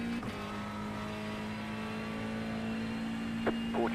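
GT3 race car engine in the iRacing sim, a steady sustained drone at constant revs throughout, with a brief rising whine near the end.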